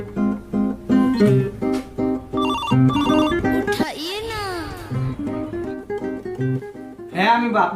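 A mobile phone ringtone plays a loud, close electronic melody in repeating bursts inside a home during a hot-weather comedy sketch, with a sweeping warbling passage midway.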